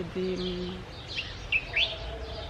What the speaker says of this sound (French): y a toutes sortes d'oiseaux qui pêchent et tout